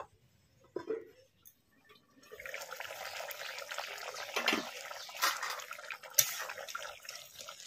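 Water poured into a pot of sea crab pieces, a steady splashing trickle running for several seconds after a few quiet handling knocks, close and fairly loud.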